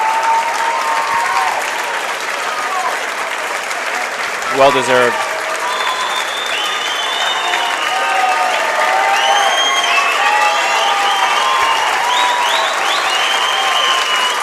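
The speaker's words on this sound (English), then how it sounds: "I'm expecting a pretty loud round of applause upon the finish here." A crowd applauding at the finish of a race at the 2017 IHSA boys swimming and diving state finals, loud sustained clapping and cheering in an indoor pool hall, with an announcer speaking briefly over it.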